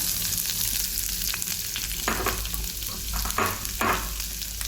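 Chopped onions go into urad and chana dal already frying in oil in a pan, giving a steady close sizzle with a few brief stirring scrapes and crackles, no voices.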